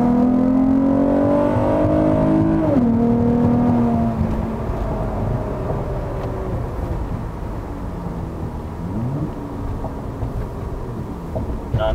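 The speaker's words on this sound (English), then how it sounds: "XLR8 Non-Resonated Exhaust, XLR8 V2J pipe," In-cabin drone of a car fitted with an XLR8 non-resonated exhaust, XLR8 V2 J-pipe and AEM V2 intake, a loud steady engine hum that shifts pitch as it revs and settles into a lower cruising tone.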